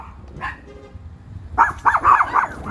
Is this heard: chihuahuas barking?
yes